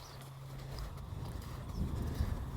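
Horse hooves stepping on the ground as the horse turns at liberty, soft irregular clip-clop footfalls close by, gradually growing louder, with no talking.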